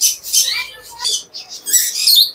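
Pet cockatiels at a breeder's aviary chirp and tweet in short, high, repeated bursts, close by and fairly loud, with brief pauses between calls.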